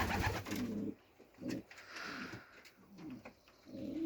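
Soft, low cooing of pigeons, several throaty coos in a loose rhythm, close by with faint background noise between them.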